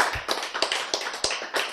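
A handful of scattered, uneven claps from a sparse audience at a church Bible lecture, moderately close with short gaps between them and no sustained applause.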